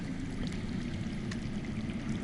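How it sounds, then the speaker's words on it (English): Running water flowing somewhere underground in the Game of Thrones Telltale game, a steady low rushing stream that stays even and unbroken throughout. "I hear water. From underground."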